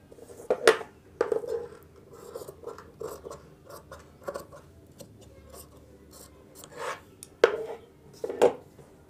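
Scissors cut through kurti fabric in a series of crisp, close snips with rasping slides between them. The snips come in uneven bursts separated by short pauses, and nobody speaks.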